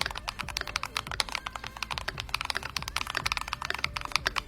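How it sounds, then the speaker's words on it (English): Keychron K10 Max full-size mechanical keyboard being typed on, a rapid, steady stream of crisp, poppy keystrokes heard close up and alone, no talk. "This might be one of the best sounding Keychrons ever made. Would you consider this a poppy keyboard?"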